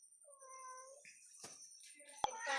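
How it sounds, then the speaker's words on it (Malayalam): A cat gives a single faint, drawn-out meow at the start, followed by quieter background noises and a brief sharp tap. "പൂച്ച."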